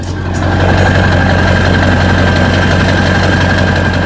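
A lifted 2000 Ford F-250 4x4 with a 7.3L turbo diesel idling up close: a loud, steady low rumble with a constant turbo whine above it, running evenly for about four seconds with no talk.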